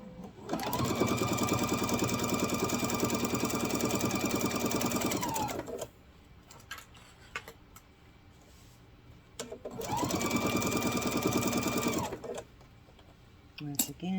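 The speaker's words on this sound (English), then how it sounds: "So we're going to sew a seam from this side to the bottom." A sewing machine runs a seam down the side and bottom of a fabric grocery bag in two sustained bursts, loud and close, with a quiet pause of handling noises between the runs.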